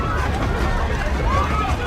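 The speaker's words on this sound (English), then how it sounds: "he blends into the panicked crowd and slips away unnoticed" A panicked nightclub crowd in a film scene flees in a dense, steady wash of overlapping voices and scuffling movement, loud and close, with no clear individual sound standing out.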